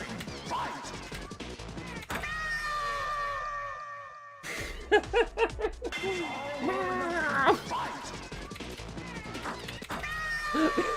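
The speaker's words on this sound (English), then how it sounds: "The cats and the music are what's killing me." Cats meow and caterwaul repeatedly in a fighting game, loud drawn-out cries layered over music and crashing hit sounds, with a voice talking over them.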